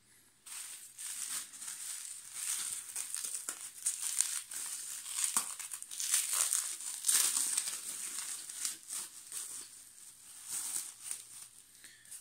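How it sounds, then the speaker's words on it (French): Airsoft M14 parts, including a G&P receiver, are unpacked from crinkly plastic packaging, with steady close crinkling and rustling and occasional tearing for several seconds and no talk. "Allez, on va déballer maintenant le reste."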